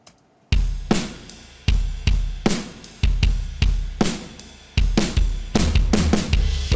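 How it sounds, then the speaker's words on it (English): A programmed EZdrummer drum track for doom metal, a slow heavy beat of booming kick and crashing cymbal hits with long decays, loud and close, with no voices. "And the drum track sounds like this."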